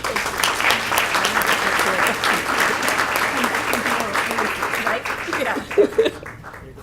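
Applause at a Monrovia Unified school board meeting honoring retiring teacher Tony: a room of people clapping steadily with some chuckles, then thinning out near the end as a few voices talk.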